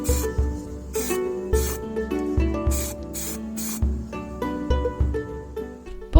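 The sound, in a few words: spray paint can spraying white or red paint inside pokeball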